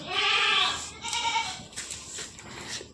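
A local desi goat, a farm nanny in milk, bleats loudly and close, one long call then shorter bleats, with farm background noise between them.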